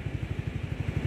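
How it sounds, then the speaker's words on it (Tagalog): A brand-new Suzuki Skydrive Crossover motorcycle idles nearby at a seaside hangout, its engine giving a steady, fast low thumping pulse with no voices over it. "ito yung bago kong motor"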